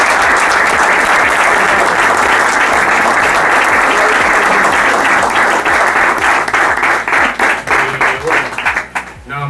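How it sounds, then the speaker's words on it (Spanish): Loud, sustained applause from an audience at the inauguration of a supporters' club office, dense clapping that thins into scattered claps near the end. "Un aplauso para ellos,"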